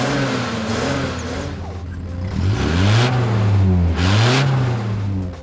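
A 1979 Datsun Stanza with a 1.6 litre L16 engine and 4-speed gearbox, heard close and loud as the engine revs up and down through rising and falling pitch sweeps, alone without talk.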